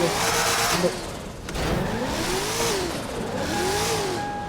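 Racing cars rev their engines loudly and close by, the pitch rising and falling in repeated sweeps as the motors accelerate, with a steady high whine and a continuous roar throughout.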